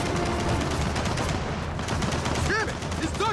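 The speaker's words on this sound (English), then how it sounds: "Hold up, there's a turret!" Turret gunfire in the video game Gears of War 4 rattles in rapid, loud bursts, with dense repeated shots through most of the stretch and electronic tones and voices mixed in toward the end.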